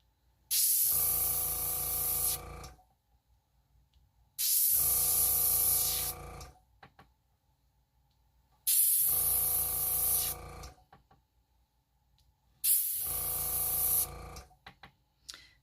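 Four bursts of airbrush spraying, each a steady hiss lasting about two seconds, separated by short quiet gaps with faint clicks.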